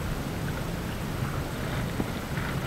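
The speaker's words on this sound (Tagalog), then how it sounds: "galit na yung hangin." Strong wind at sea buffeting the microphone while paddle boarding, a dense continuous roar with no pauses and no voices.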